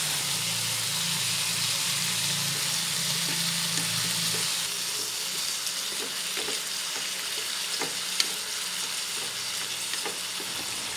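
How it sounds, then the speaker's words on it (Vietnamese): Grey abalone mushrooms and pork stir-frying in a hot pan, a loud continuous hissing sizzle with occasional scraping stir strokes and small clicks, close up and without talk. "Xào đến khi thấy nấm xịp xuống như vậy là nấm đã chín."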